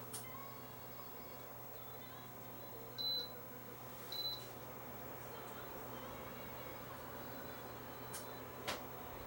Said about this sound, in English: Panel sound is the beep.